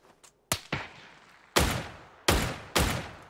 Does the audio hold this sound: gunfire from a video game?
yes